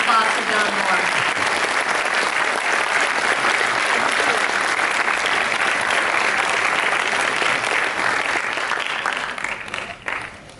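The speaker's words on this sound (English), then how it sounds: "And one more round of applause for John Moore." An audience in a hall gives a sustained, dense round of clapping that holds steady for several seconds, then thins out and fades toward the end.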